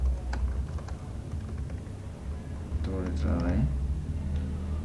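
Computer keyboard typing on a PowerPoint task, heard as quick, light key clicks under a steady background hum, with a voice speaking over part of it.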